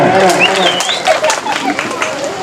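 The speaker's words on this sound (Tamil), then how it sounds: "நல்ல ஒரு கைத்தட்டல் கொடுக்கலாம்." An audience claps in sustained applause at a family puberty ceremony, steady and fairly loud throughout, mixed with crowd noise and a voice talking over it.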